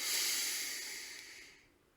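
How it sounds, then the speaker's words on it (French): A deep, slow exhalation out through the mouth during a guided meditation, a soft close breathy hiss that fades gradually over about two seconds with no talking. "expirant profondément par la bouche"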